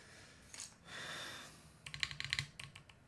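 Typing on a LAZYDESIGNERS Duo60 mechanical keyboard, heard as quick, close, clacky keystrokes in short bursts, with a soft breathy noise between them.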